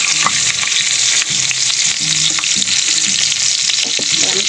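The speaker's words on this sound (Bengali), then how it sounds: "তো আমি তেল বসিয়ে দিয়েছি, তেলে দিয়ে দেবো কালো জিরে ফোড়ন আর দিয়ে দেবো খানিকটা কাঁচা লঙ্কা।" Nigella seeds and green chilies sizzle in hot oil as the tempering for a spicy taro and mustard dish. A loud, steady, close-up fry runs throughout, with light stirring clinks underneath.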